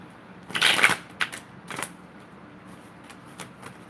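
Tarot cards being shuffled by hand, a few quick riffling bursts and soft card taps close by, with the loudest flurry near the start, then quieter handling.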